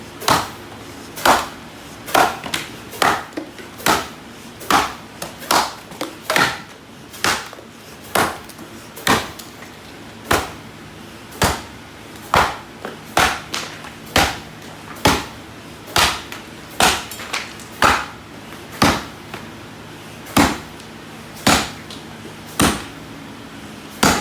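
An axe splits wood outdoors in a steady rhythm of sharp, loud, close chops, roughly one strike per second over a faint background hum, with no talking.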